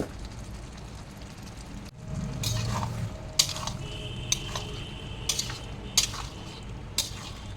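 Potatoes drop into hot spiced oil in a pan with a sudden rise in sizzling, followed by a steady fry broken by several sharp metallic clinks of a utensil against the pan.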